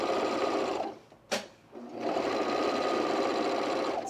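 A serger overlock machine stitching a single layer of fabric for a dress, running with a steady, dense whir. It stops briefly with a quick clack, then starts again and keeps humming evenly up close.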